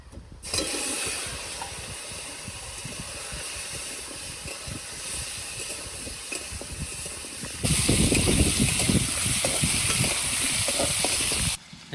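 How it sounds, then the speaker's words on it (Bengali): Potatoes go into hot oil left over from frying catla fish and sizzle with a steady, crackling hiss that swells louder partway through, then cuts off abruptly. "মাছ ভাজা তেলের মধ্যে এবার আমি আলুগুলো ভেজে নেব।"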